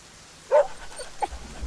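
A dog gives a short whimper followed by a fainter second whine, close by against a quiet background.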